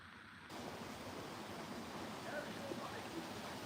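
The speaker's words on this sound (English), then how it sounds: "And you can hear the water over there." Water flows steadily beside a pond at Dimmingsdale, a broad continuous wash that starts abruptly and holds at a moderate level, heard from a short distance outdoors.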